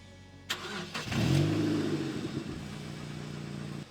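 A Mazda Miata MX-5 NC engine cranks briefly, catches and settles into a steady idle, heard up close at the exhaust with a deep, even burble.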